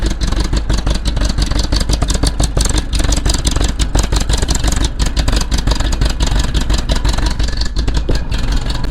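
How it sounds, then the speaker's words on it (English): The engine of a rare Swedish military vehicle idles on fuel from an outboard tank, a loud steady close-up chugging with a fast even pulse throughout and no talk. "It's even ticking over as well"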